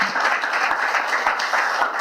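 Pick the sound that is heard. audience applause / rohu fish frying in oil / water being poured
audience applause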